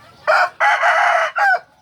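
A tall fighting rooster crows loudly and close by, one full crow broken into several strong bursts with brief gaps between them, heard on its own against quiet surroundings.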